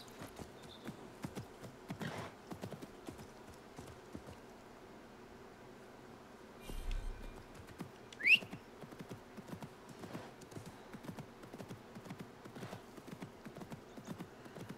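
A summoned horse mount in a video game set in ancient Baghdad trots with rapid, rhythmic clip-clop hoofbeats, and a brief snort or whinny cuts in partway through.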